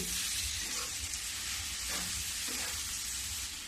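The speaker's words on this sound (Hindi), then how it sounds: "अब इसको अच्छे से मिला देती हूँ और मिलाने के बाद ढक दूंगी।" A tomato mixture sizzling and frying in a pan while being stirred, a dense steady hiss with faint scraping strokes underneath.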